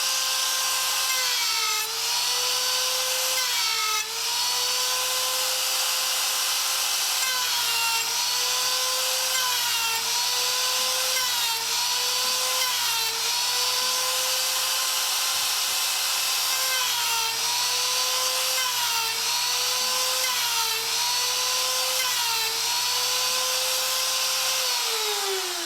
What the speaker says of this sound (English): I'm going to cut 1/8 of an inch notch from about 1/2 inch outside of my line to about within 1/2 inch of my block.